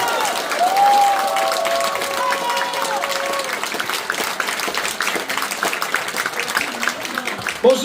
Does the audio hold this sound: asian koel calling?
no